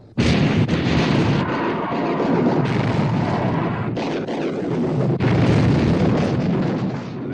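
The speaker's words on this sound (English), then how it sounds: "All turrets ready to open fire, sir. Open fire." Heavy battleship turret guns fire in a 1960 naval battle at sea, a dense, continuous barrage of booming blasts and rumbling explosions that stays loud throughout with no speech.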